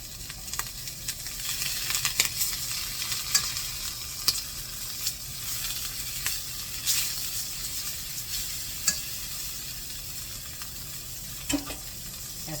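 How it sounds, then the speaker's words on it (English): Butter sizzles steadily in a skillet ahead of hamburger steak patties, a continuous close crackle with scattered sharp pops throughout, no talking. "in our skillet, we're going to add our butter"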